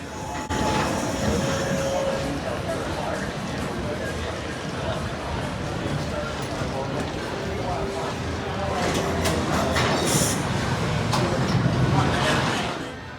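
A narrow gauge 3-foot-6-inch amusement park railroad at Kings Island pulling open-air passenger cars: a continuous rumbling roll with rattling, steady throughout, with faint tonal whines.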